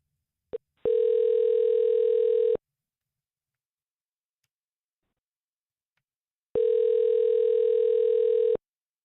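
Telephone ringback tone heard while calling a scammer posing as Amazon support: a short blip, then two long steady electronic rings a few seconds apart with silence between, clear and close.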